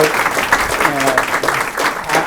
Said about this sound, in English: So that's an applause line.